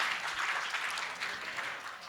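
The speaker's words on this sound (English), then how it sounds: "So give yourselves a round of applause." Steady applause from a conference audience at a plenary debate on sustainability finance, a dense, even wash of many hands clapping throughout, with no talk over it.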